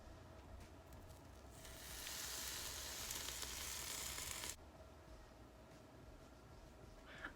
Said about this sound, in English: It's literally just burning hair.